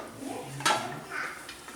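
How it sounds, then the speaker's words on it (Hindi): Chicken curry being served from a pot, with a ladle or spoon clinking and scraping against the metal and a soft wet slop, close and brief. "तो अभी डिश आउट करते हैं इसको।"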